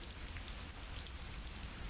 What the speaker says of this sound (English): I just wish it wasn't raining.